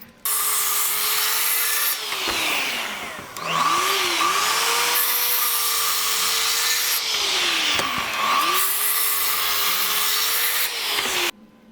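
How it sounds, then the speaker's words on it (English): Mag 77 worm-drive circular saw powered by a Milwaukee MX FUEL power supply, cutting through wood in repeated loud whining passes, with the motor dipping and recovering between cuts. "can you actually cut something with it?"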